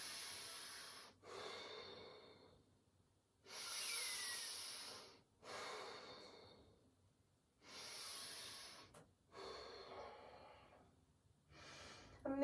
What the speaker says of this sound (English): we're just breathing Ujjayi breath. So in through the nose,